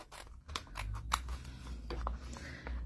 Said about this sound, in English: So it's little scissors to pick this up. Right, I'll just do a rough cut here.